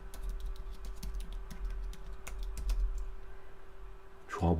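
Fingers type on a computer keyboard in quick, light clicks and keystrokes over a low electrical hum, with a brief louder rustle at the very end.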